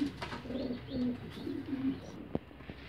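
Young pigeons (squabs) coo in a series of soft, low, rounded calls close by, with a sharp click near the end.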